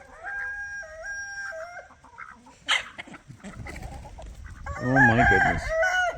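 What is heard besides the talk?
farm birds including goose calling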